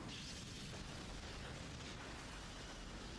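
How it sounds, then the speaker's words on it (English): A rock blown apart in a Cowboy Bebop anime scene, a faint, dense, continuous rumbling roar with no distinct attack, sustained throughout. "they're gonna blow up the rock"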